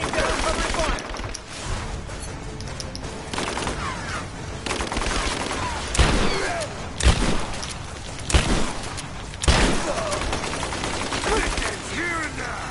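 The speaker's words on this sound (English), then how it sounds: "Laying down cover fire!" Video game gunfire laying down cover fire: dense, sustained bursts of shots with several louder bangs standing out, mixed with in-game voices and combat noise throughout.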